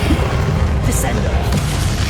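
A heavy, booming slam as the Descendo spell strikes in Hogwarts Legacy, a single dense low impact set amid a continuous rumble of game sound.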